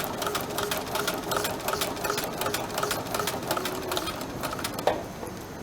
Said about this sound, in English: And now it's going to sew right here, right inside next to the teeth.